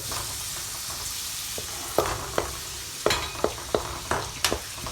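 Onion and green turmeric sizzle in a pan for ragda, with a steady hiss broken by several sharp spoon knocks and scrapes against the pan, close and fairly quiet.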